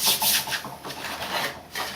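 Covering film being rubbed down by hand onto a model aircraft wing, a series of short, close scuffing strokes in an uneven rhythm, with no talk.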